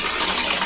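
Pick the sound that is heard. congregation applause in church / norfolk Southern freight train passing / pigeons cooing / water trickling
water trickling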